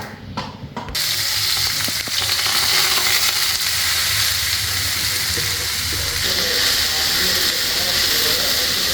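Thoran with curry leaves stir-fries loudly in a pan, a dense, steady sizzle and hiss that begins abruptly after a short quiet moment and keeps going evenly, with faint scraping mixed in.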